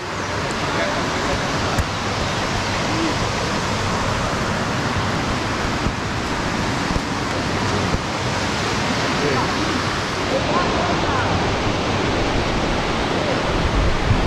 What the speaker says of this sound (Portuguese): chegamos aqui à Cachoeira da Capivara.